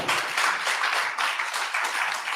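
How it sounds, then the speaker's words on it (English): An audience at a travel awards ceremony applauds, a steady wash of many hands clapping at moderate volume for a couple of seconds with no talk. "give a round of applause to them all"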